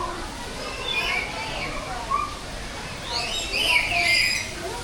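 Birds calling and chirping in an enclosure at Cebu Ocean Park, bright overlapping calls rising louder toward the end, with people talking and crowd murmur throughout.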